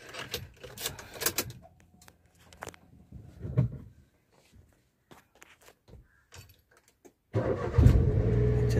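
A Maruti Wagon R is unlocked with a few soft clicks, key and handling sounds, and then the engine cranks and settles into a loud, steady idle close by.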